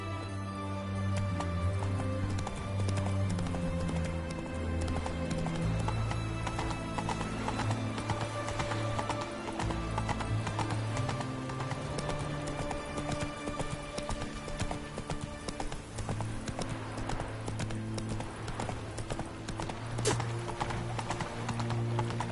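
Horse hooves clip-clop steadily at a gallop in The Witcher 3, with occasional whinnies over a continuous bed of game music, moderately quiet throughout.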